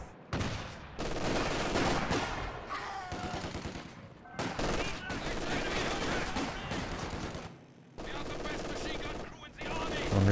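Machine gun fire and other gunshots from the Company of Heroes 2 World War II strategy game, with rapid bursts and sharp reports that are loud and dense, broken by brief pauses.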